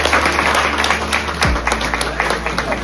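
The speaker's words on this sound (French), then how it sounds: "Elle mérite des applaudissements et des félicitations." Audience applause at an award ceremony for a women's training project at a textile school, steady and moderately loud with dense overlapping claps and some voices mixed in.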